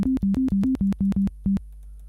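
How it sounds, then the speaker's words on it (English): A run of eight short, pure notes from a Woovebox synthesizer, a sine wave layered with a second sine an octave higher, in a clipped rhythm, bouncing between a few close pitches, each starting with a faint click. "a sine wave, with another kind of sine wave playing at double the frequency, so an octave higher"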